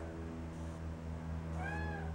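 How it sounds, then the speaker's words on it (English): A domestic cat gives a short, faint meow, rising then falling, against a steady low indoor hum, with no one talking. "every now and then he'll look at me and meow. Just like that."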